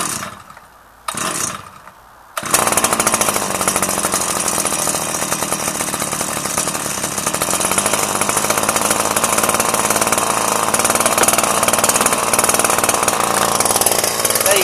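A Mitsubishi T130 trimmer's small two-stroke engine catches after a cold start and runs at a loud, steady, buzzing rasp close by, following a few brief sputtering attempts.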